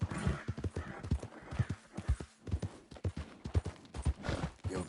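Horse hooves clip-clop in a steady, close rhythm in a PS4 video game, with a few whinnies mixed in and no talking over them.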